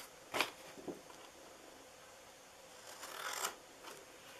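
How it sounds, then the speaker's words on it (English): Scissors cut paper for a Christmas mailbox treat box, with two short, quiet snips near the start and another soft cut a few seconds later, close by with no talk. "And then you're going to cut these, this off here."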